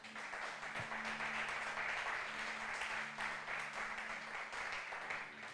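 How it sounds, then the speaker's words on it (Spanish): A church congregation at a Friday night service applauds, a steady, fairly faint wash of clapping that continues for over five seconds with a low hum beneath. "Si lo cree, denle un aplauso al Señor"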